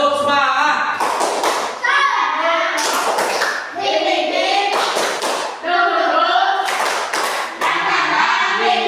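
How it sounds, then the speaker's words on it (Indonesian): A group of children outdoors on a school field doing a rhythmic spirit clap, loud patterned bursts of clapping and thumps mixed with children's chanting voices, close and continuous. "Oke? Tepuk semangat."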